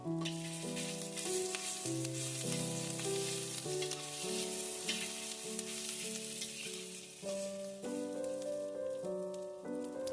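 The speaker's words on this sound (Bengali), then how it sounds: "কড়াইতে ওই তেলটার মধ্যে কিছুটা পরিমাণ আদা বাটা দিয়ে সেটাকে ভালো করে ভেজে নিচ্ছি" Ginger paste fries in hot oil in a wok, a steady soft sizzle and crackle running beneath prominent melodic background music throughout.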